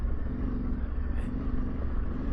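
A 2024 Yamaha Tenere 700 motorcycle rides a rocky trail in Switzerland, its engine a steady low rumble with continuous rough drone throughout, moderately loud and close, no talk.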